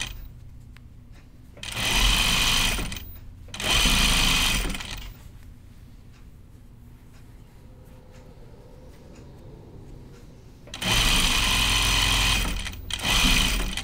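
Sewing machine stitching a jacket lining shut, three loud close bursts of fast mechanical whirring separated by quieter pauses with faint handling noise.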